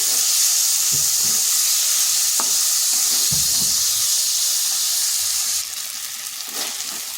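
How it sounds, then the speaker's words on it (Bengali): Soaked chana dal sizzles steadily in a hot pan, a loud continuous hiss with a few clattering stirs, no voices. "এই ছোলার ডালটা আমি 2-3 ঘন্টা আগে ভিজিয়ে রেখেছিলাম। এরপর ভালোভাবে কষে নিচ্ছি।"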